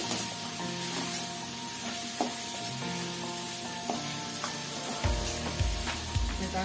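Tomatoes sizzle loudly in a frying pan while cooking tomato chutney, a steady crackling hiss with occasional stirring clatters and a deeper thud near the end.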